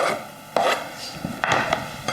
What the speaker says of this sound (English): so I'll just scrape that onto there